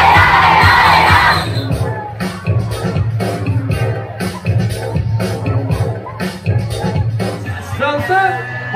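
A school scout camp crowd at an evening campfire party bursts into loud cheering, which fades into a run of rhythmic claps and scattered shouts.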